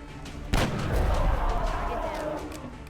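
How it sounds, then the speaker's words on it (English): Gunfire in the XCOM Enemy Within game with the Long War mod, one sharp blast followed by a sustained rumbling roar of shots and echo over a low background. "Arden, your best shot is against the Muton, and we're going to take it"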